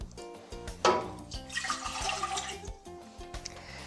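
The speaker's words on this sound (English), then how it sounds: "We're going to go ahead and add 1 1/4 cup of water." Water is poured into a medium saucepan on a stove for a lentil taco recipe, a short splashing, gurgling pour that swells and then tapers over a few seconds.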